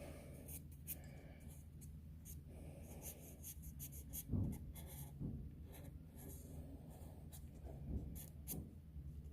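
Natural willow charcoal scratching and rubbing across paper while sketching tree branches for a landscape drawing, a close, quiet stream of dry strokes with a few heavier presses, no speech.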